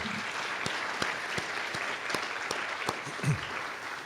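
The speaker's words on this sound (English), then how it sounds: "Let's give them a round of applause" An indoor audience at an honoring event gives a round of applause, moderately loud clapping with sharp individual claps standing out, steady for a few seconds.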